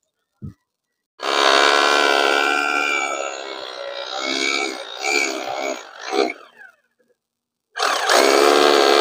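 Power drill boring into a clay tile roof truss, running in a loud, sustained whine. Midway it stutters and pulses as the bit labours, then stops briefly before restarting at full power.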